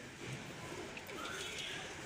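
A teddy pigeon gives a soft, faint coo at close range against a quiet background.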